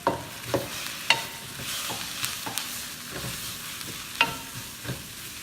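Onions fry in an Amway iCook pan with a soft steady sizzle, while a utensil stirs and scrapes in scattered sharp clicks and taps, fairly quiet and close, with no talking.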